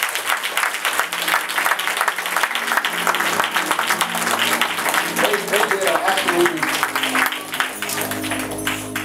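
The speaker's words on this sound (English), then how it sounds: "Can we give them a round of applause?" An audience applauds a dance team, a dense steady wash of clapping that holds for several seconds with some voices underneath before fading slightly at the end.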